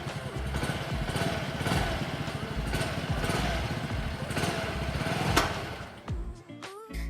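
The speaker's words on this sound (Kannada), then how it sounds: "ಇದರಲ್ಲಿ ನಮಗೆ side stand auto engine cut off ಕೂಡ ಕೊಟ್ಟಿದ್ದಾರೆ." A 2022 Yamaha Fascino 125 Fi Hybrid BS6 scooter idles close by with a steady engine drone for about six seconds, then abruptly cuts off when the side stand auto engine cut-off engages, leaving a few faint scattered noises.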